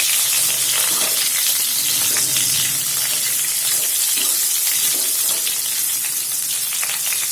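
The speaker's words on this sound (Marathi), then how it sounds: "आता चिकन पण आपण छान फ्राय करून घेऊया" Chicken fries in a hot pan with a loud, continuous sizzle that stays steady throughout, with no talking.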